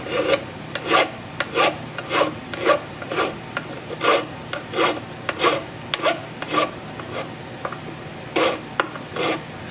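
A hand file rasps across a mandolin nut in a steady series of short strokes, about a dozen close, crisp scrapes evenly spaced with brief pauses between them.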